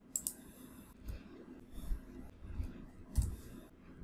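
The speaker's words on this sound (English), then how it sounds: "Then click OK to save." Sharp mouse clicks on an OK button in point-of-sale software, two quick near clicks at the start and another firmer click later, over faint room noise with no talk.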